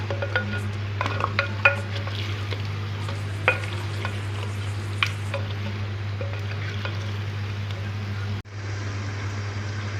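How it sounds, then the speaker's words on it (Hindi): Mutton frying in a pot, stirred with a metal spoon, giving repeated clinks and scrapes over a soft sizzle and a steady low hum, close by, cutting off briefly near the end. "अब मैं इसमें मटन डाल दूँगी। इसको भी हमने बहुत ज़्यादा नहीं भूनना, बस हम 3 से 4 मिनट इसको हम जो है भून लेंगे।"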